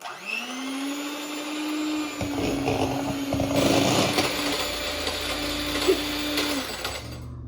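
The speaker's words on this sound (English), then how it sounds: "you'll mix it with the electric mixer for 2 minutes" An electric mixer whirs up to speed and churns hot roll dough, a steady motor whine that strains and rattles as it works the mix, then winds down and stops near the end.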